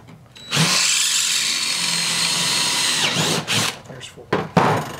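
A power drill bores a hole through metal for a power window regulator conversion on a Chevy C10, a steady loud whine running about two and a half seconds before winding down into shorter bursts and clatter.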